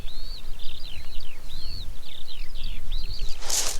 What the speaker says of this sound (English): So let's just embrace the sound of the birds.